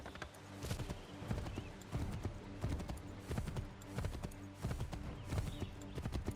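Horse hooves clip-clop in a steady, lively rhythm in Assassin's Creed III, close and distinct, with no talking.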